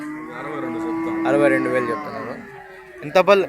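A Holstein-type cow at a cattle market in Punganur gives a long, loud, close moo, followed by someone speaking briefly.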